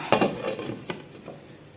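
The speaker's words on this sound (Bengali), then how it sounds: "আর ঢাকনা দিয়ে রাখবো।" A lid clinks onto a metal cooking pot on a switched-off stove, a sharp double clatter followed by a lighter tap or two, close and fairly quiet.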